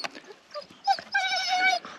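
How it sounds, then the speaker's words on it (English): A dog whimpers and whines in short, high, tonal cries close to the microphone, with a sustained plaintive whine near the end; brief rustling sits between the cries and no one speaks. "Oh, Bailey the wonder dog"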